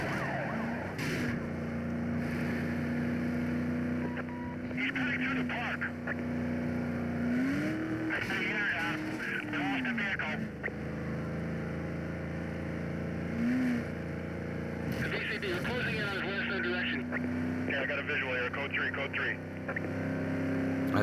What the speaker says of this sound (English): this is the first SUV, and it very much sounds like the Escalade in Underground 2